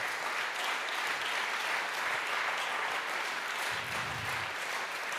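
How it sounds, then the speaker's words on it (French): Applause for Claude Revel at a French awards closing ceremony, a steady dense clapping from a large seated audience that holds for about five seconds at moderate volume. "je crois qu'on peut l'applaudir très fort"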